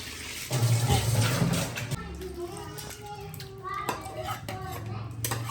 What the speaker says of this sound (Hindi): बाहर जो है ना बच्चों ने इतना शोर किया हुआ, खेल रहे हैं।